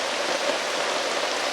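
Heavy rain pours down in a dense, even hiss that stays steady and loud throughout, with no voices.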